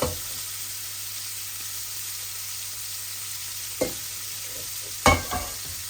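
Pieces of rohu fish frying in hot oil in a pan, a steady soft sizzle broken by a couple of sharp clatters from turning or stirring near the end, with no talking.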